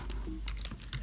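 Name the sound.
computer keyboard typing a password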